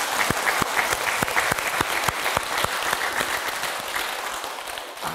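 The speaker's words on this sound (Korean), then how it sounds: "박수 쳐요." An audience at a Buddhist dharma talk, held at an army training centre, claps in sustained, dense applause with sharp individual claps standing out, steady and close throughout.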